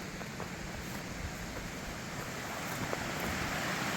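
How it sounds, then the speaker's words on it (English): Noisy flowing water beside a trail on the Continental Divide, a loud, continuous rushing wash that stays steady and close throughout. "Water is just so noisy."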